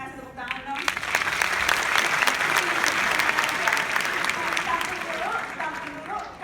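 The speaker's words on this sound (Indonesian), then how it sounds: "Kita kasih tepuk tangan dong." Sustained audience applause fills a stage talk show held in the Netherlands, dense clapping steady throughout with a few voices faintly underneath.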